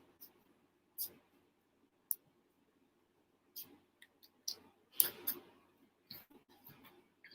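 Tarot cards being shuffled by hand, a series of soft, scattered riffles and card flicks with brief bursts and quiet gaps between them, close and fairly faint.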